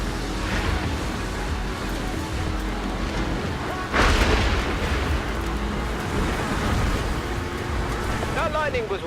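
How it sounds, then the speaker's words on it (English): A lightning strike in the Forza Horizon 4 racing game lands close with a sudden sharp crack and booming thunder rumble over a running car engine and wind, followed by continuing driving noise. "That lightning was way too close."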